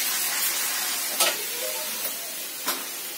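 Dal (lentils) cooking in a pot on the stove, a steady close sizzle and hiss with a few faint clinks, and no voices.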